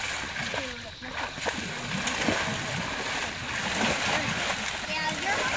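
A horse splashes water while drinking from a stream on a trail ride, steady wet splashing and sloshing throughout with people talking over it.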